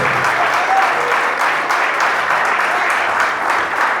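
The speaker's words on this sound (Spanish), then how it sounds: "dale el aplauso" Steady applause from a church congregation during a sermon, a full, continuous rush of clapping held at an even, fairly loud level for several seconds.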